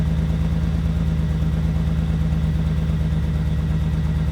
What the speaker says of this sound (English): Yeah, it's idling really roughly.